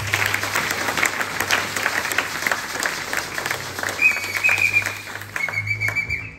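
A church congregation bursts into loud, sustained applause after a Pentecost prayer, dense clapping with a few whistles and cheers, fading toward the end.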